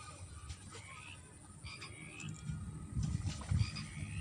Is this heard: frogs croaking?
yes